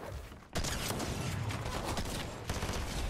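Gunfire from a slow-firing weapon in Fortnite bursts in abruptly after a brief quieter moment, then continues as dense, fairly faint shooting with a renewed burst near the end.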